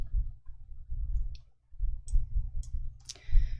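Mouse clicking at a computer while working in Excel, a handful of crisp close clicks spaced irregularly over a low background hum, no talking.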